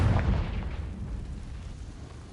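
A Confringo blasting spell goes off in Hogwarts Legacy as a deep muffled boom right at the start, then rumbles and fades over about two seconds.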